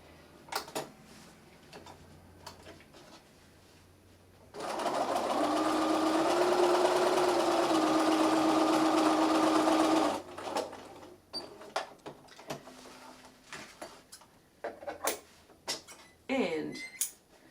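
A sewing machine stitches a dart on a plush bunny in one steady, close run of about five seconds, surrounded by quiet handling clicks and rustles before and after.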